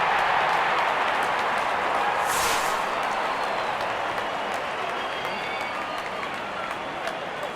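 A cricket crowd applauds a batsman's fifty in a T20 World Cup Super 8 match between Pakistan and England, with dense, steady clapping sustained throughout and a faint commentary voice underneath.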